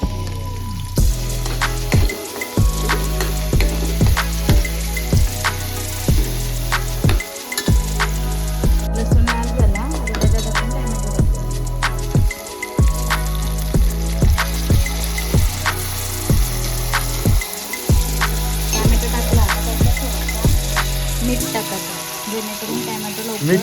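Garlic and chilli fry in a pan with a continuous sizzle, heard under a repeating low, pulsing thump that keeps an even rhythm throughout.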